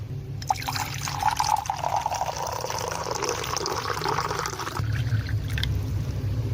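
Water splashes and trickles steadily as people rinse their mouths and wash their faces, a continuous close wet sound with no voices.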